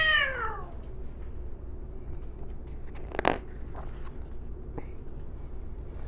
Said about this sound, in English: Muffins let out a furious yowl.